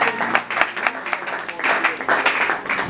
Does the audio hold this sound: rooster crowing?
no